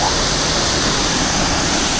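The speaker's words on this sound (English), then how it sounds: "There's a waterfall!" A jungle waterfall in Chiang Mai, Thailand, roars as a loud, steady, close wash of rushing water that fills the whole moment without pause, with no voices heard.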